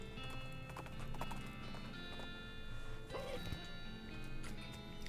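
Horses in the video game West of Loathing clip-clop steadily over a constant background of game music and ambience, with a brief whinny in the middle.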